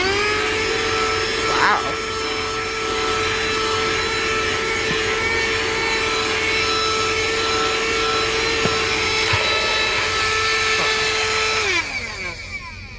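A cheap Dollar Tree car vacuum cleaner, powered from a cigarette lighter socket, runs steadily as it sucks up dirt left from camping, giving a continuous whining drone that cuts off near the end, with a brief exclamation from a voice.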